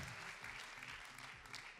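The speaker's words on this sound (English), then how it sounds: "Anybody, we can clap for that." An audience at a talk about long marriages claps for couples married over 30 years, giving a brief, steady burst of applause at moderate distance.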